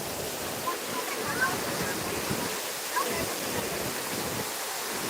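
Steady broadband roar of water pouring down at a waterfall where people gather to bathe, a constant rushing wash with faint voices and small splashes now and then.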